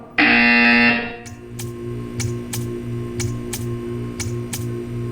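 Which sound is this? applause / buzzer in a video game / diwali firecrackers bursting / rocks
buzzer in a video game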